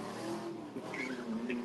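A drag racing car making its final pass of the day at a drag strip, a distant, fairly faint engine drone with shifting pitch under crowd ambience.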